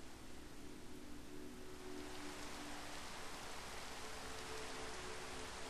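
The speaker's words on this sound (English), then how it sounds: "And here comes the rain again." Rain falls steadily in the Minecraft video game, a constant soft hiss with no other sounds or voices.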